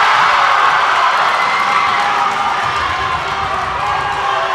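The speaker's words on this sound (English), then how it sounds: "Very loud crowd tonight." A loud indoor crowd at a girls high school basketball game cheers and yells in a dense, continuous roar that stays strong from start to finish.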